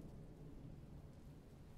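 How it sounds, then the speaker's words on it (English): Thunder rumbles along with steady rain in the video game Forest Keeper, a faint, continuous low roar and hiss with no talking. "that thunder is getting closer."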